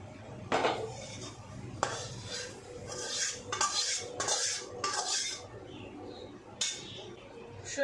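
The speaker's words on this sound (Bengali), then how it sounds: "আমি এবার এটা মাশরুমের উপর ঢেলে দেবো" A spoon clinks and scrapes against a pan as a red chili powder mixture is tipped out over mushrooms for potato mushroom noodles, in a series of sharp, close metallic strokes with quieter gaps.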